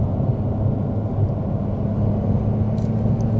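A Porsche 911 Turbo S cruising in a high gear toward the Auckland Harbour Bridge, giving an even, droning engine hum with a steady low tone under road roar, heard close from the cabin.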